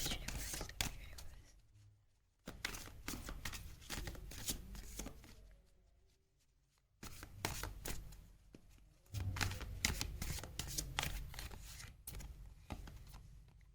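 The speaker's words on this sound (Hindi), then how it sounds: "हम आपके कार्ड्स शफल कर लेते हैं" Tarot cards are shuffled by hand in repeated close riffling bursts with brief pauses between them, while someone speaks softly through much of it.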